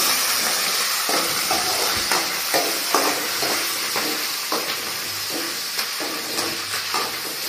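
Green chillies and curry leaf sprigs fry in hot oil for a curry, giving a steady close sizzle and hiss with repeated stirring scrapes and taps spread through the whole stretch, and no voices.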